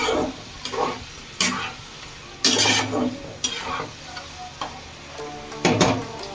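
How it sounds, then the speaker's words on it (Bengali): Mutton stirred and sautéed in spiced oil in a pan while making Bengali-style mutton keema ghugni, with a steady sizzle under repeated scraping stir strokes at irregular intervals, close and moderately loud. "মাটনটা দিয়ে একটু কষাবো হালকা করে।"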